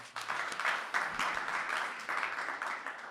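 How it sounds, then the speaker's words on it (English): A crowd claps together in steady, continuous applause lasting a few seconds, with no voices over it. "Clap your hands."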